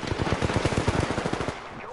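Rapid automatic weapon fire in Apex Legends, a fast, evenly spaced stream of loud close shots lasting about one and a half seconds before cutting off into a fading tail.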